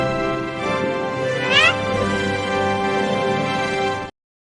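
A cartoonish cat meow sound effect rises briefly and loudly in a podcast discussion about a Disney D23 event, with a steady hum of other sound running underneath.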